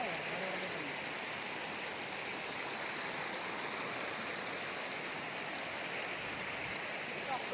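Steady broadband rush of flowing water at Anakkayam beach, continuous and fairly close, with no voices over it.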